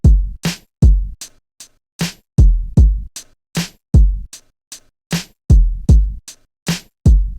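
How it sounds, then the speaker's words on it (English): Hi-hat hits from a hip hop drum kit play alone as a run of short, crisp, bright ticks, some louder and some softer, spaced in an uneven sequence with brief gaps and no voice. "and also obviously your hi-hats,"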